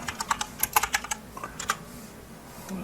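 A quick run of close, crisp computer keyboard keystrokes that trails off into a few scattered taps, followed by quiet.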